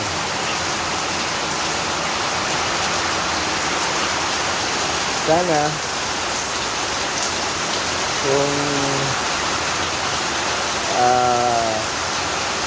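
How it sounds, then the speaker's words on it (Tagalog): Heavy rain from a typhoon pours in a dense, continuous roar, growing stronger, with a few brief bits of speech heard over it. "patuloy na palakas ng palakas ang ulan"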